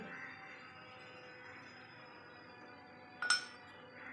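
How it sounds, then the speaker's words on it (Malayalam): A spoon clinks once against a glass bowl while cornflour is mixed with milk, a single bright chime rising over a quiet kitchen hush. "ആദ്യം തന്നെ കോൺഫ്ലവർ ഒന്ന് കുറച്ച് പാലൊഴിച്ച് ഒന്ന് മിക്സ് ചെയ്തെടുക്കണം"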